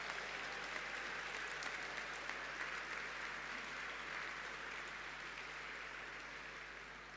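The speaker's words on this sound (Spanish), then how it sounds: "Un fuerte aplauso." Sustained applause from a large crowd of neighborhood leaders filling a hall of honor at a seminar, a dense steady wash of clapping that holds throughout and slowly fades toward the end.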